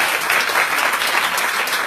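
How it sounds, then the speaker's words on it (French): An audience applauding loudly and steadily at a talk, a close, dense clatter of many hands clapping throughout. "On applaudisse très très fort pour Florence pour tout ton travail."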